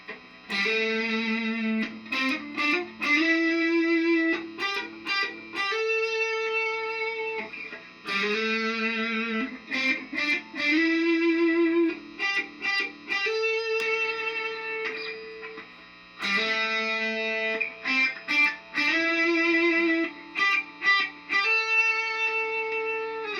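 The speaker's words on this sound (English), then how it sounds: "let me play some notes, individual notes with each pickup position on here." Distorted electric guitar on a Firefly Madcat, playing single sustained notes one after another through each pickup position, with brief pauses between phrases.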